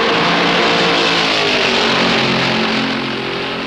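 Stock 1964 NASCAR race cars lapping Darlington during the Southern 500, a loud continuous engine roar that fades slightly at the end.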